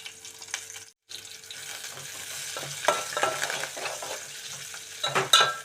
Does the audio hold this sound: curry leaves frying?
yes